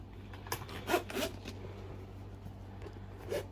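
A school pencil case zipper is pulled open in a few short, rasping tugs, close by and alone.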